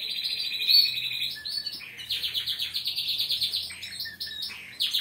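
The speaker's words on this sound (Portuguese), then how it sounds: "Olha o canário verde lá, ó." A green canary sings in repeated bright, trilling phrases with short pauses between them, close and clear against a quiet background with no talking.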